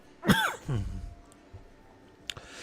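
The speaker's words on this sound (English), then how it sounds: "Also, I'm going to cough for a second." A single throaty cough, followed by a rougher throat-clearing rasp, close and fairly loud, then quiet with a small click near the end.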